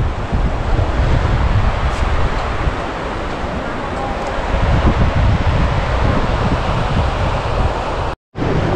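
The Ganges flows at Rishikesh with a steady broad rush of water, loud and close, mixed with wind buffeting the microphone, before a sudden brief dropout near the end.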